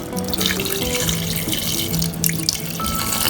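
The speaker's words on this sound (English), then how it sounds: "And with this you add some water" Water runs steadily from a tap into a sink or vessel, a constant splashing rush with faint tonal ringing as it fills.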